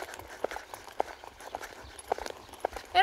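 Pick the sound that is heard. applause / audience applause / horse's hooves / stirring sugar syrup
horse's hooves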